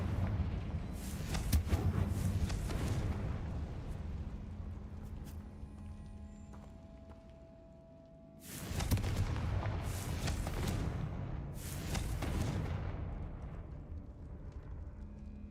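Repeated fiery blasts from the Confringo spell in Hogwarts Legacy, loud booming bursts, one long burst early then three sharp explosions in quick succession after a quieter lull, set against steady game ambience.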